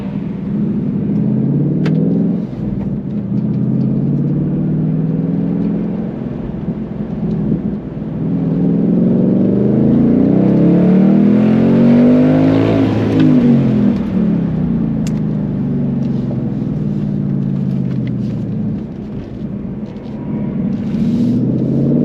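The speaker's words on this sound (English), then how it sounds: "first time ever doing Autocross in my life" A Ford Mustang Mach 1 rumbles around an autocross course, its engine note rising and falling through acceleration and lifts, loud and close throughout with no talk.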